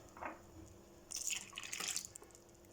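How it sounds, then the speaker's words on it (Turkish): Room-temperature milk poured into cake batter, a brief soft liquid splash and trickle, close by and faint. "2 su bardağı oda sıcaklığında sütümüzü ilave ediyoruz"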